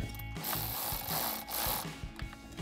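A 7mm socket tightens an intake clamp on the throttle body of a RAM 1500 cold air intake install, giving close, steady scraping and rubbing with small ratcheting clicks and no talk.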